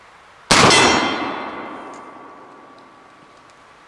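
A single Smith Carbine, a Civil War rifle, fires once: a sudden loud crack followed by a long ringing decay that fades over a couple of seconds, with no talking.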